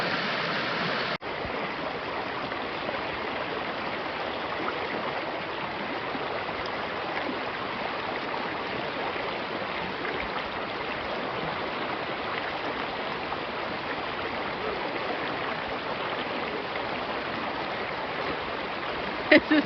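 A stream rushes over a hiking trail water crossing near Shores Lake, a steady broadband wash of flowing water that stays loud and close throughout, with no pauses.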